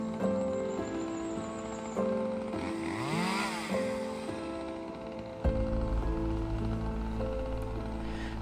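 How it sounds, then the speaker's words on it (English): A chainsaw drones steadily nearby on a mountainside homestead in Portugal, its engine pitch rising and falling as it revs, with a sharp jump in loudness near the end. "the usual mountainside peace of our homestead has been disturbed by the sound of chainsaws"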